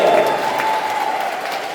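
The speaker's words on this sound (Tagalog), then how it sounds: "Isa pa ng malakas sa palakpak para sa ating Diyos na buhay." Brief burst of congregation applause in a church service, a dense wash of clapping in a reverberant hall with a voice faintly under it.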